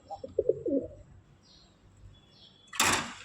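Deshi Rajgolla pigeons cooing up close: a few soft throaty coos at the start, faint chirps in the middle, then a brief louder rustle near the end, quiet overall.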